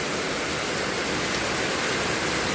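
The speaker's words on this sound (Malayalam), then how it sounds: "നല്ല മഴ ഇങ്ങനെ പാറിലൊക്കെ അടിച്ചിട്ട് ഇതാ ഇവിടെ നമ്മളെ തിണ്ടത്തൊക്കെ ആകെ വെള്ളമായിണേ അമ്മാതിരി മഴ പെയ്യണത് കാറ്റ് വീശിയിട്ട് പാറിലടിച്ചിട്ടെ" Heavy monsoon rain driven by wind pours down and beats on rocks, a dense, steady roar of falling water with no breaks, loud and close.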